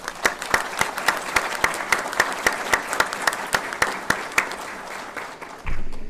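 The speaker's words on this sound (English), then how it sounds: "with a round of applause" Steady audience applause fills a Texas Board of Criminal Justice and Windham School District board of trustees meeting, many hands clapping at a lively, even pace before fading out near the end.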